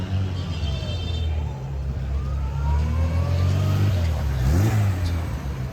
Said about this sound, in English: And there's a little 4CV coming in.